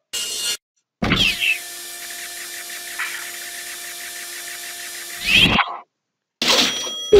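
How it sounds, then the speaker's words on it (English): Laser drill from the Henry Stickmin bank-heist game: a steady electronic whirring hum with sustained tonal lines runs for about four seconds, bracketed by brief louder bursts at start and end, with no talking. "Let's do laser drill."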